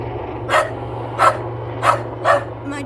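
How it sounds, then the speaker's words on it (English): A hound barks four times in a slow, even rhythm at a low-flying helicopter at night, each bark sharp and fairly close over a constant low background hum. "My dog really hates helicopters, that's why he's barking."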